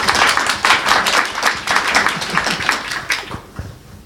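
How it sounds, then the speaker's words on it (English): Audience applause at a competition forum session, a dense round of clapping from many hands filling the room, steady and fairly loud before tapering off toward the end. "Let's applaud."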